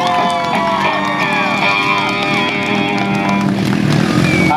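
An outdoor crowd at a country-rock show at an offroad park cheers, whoops and applauds loudly, while engines rev in wavering whines nearby through the noise.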